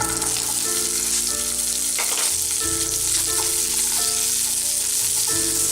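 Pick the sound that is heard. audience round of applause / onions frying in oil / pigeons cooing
onions frying in oil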